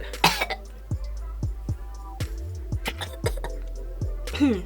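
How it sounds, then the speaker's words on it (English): A few short, sharp coughs break out near the start, followed by quiet little throat sounds and faint clicks in a mostly hushed room. "The amount that this chocolate has made me cough and sneeze."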